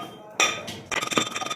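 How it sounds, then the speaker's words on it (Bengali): Ginger and garlic are pounded into paste with a hard sharp strike followed by a quick run of rhythmic knocks, close and fairly loud. "এই যে সঞ্জু ভাই এখন আদা রসুন বাটবে।"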